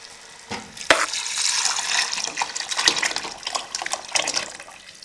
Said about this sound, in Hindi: अब इसमें हम 3 प्याले पानी शामिल कर देंगे।